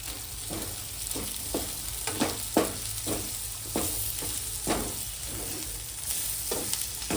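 Chicken fry with garam masala, chicken masala and coriander sizzles steadily in a pan while a spatula stirs it in repeated scraping strokes, loud and close with no talking.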